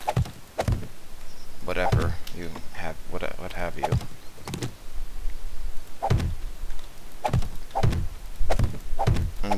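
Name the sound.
placing concrete blocks in video game 7 Days to Die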